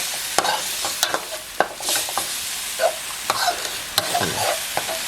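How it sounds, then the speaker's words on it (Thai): Glass noodles are stir-fried with sauce in a pan for a pork basil dish, with close scraping and stirring clacks from a utensil over a soft, steady sizzle and no talk. "ชุนมากครับแล้วก็ผัดเป็นเส้นครับ คลุกนะครับ กับน้ำซอสนะครับ"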